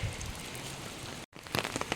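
Rain falling steadily on a surface beside a filling stream, a soft continuous patter with scattered drops, briefly cut before resuming.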